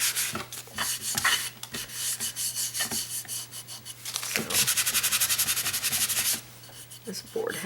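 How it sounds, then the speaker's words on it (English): A brown paper bag rubs back and forth over dried acrylic paint on a painted pumpkin surface, giving repeated dry rasping strokes that grow denser and louder in the middle, close to the listener. "the brown paper bag is just going to remove the places that feel raised."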